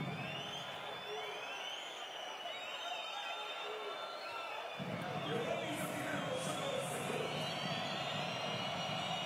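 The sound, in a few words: basketball crowd in the stands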